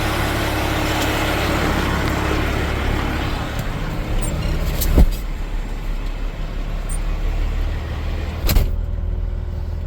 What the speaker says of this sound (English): Rev it up a little bit, speeds up the lifting action.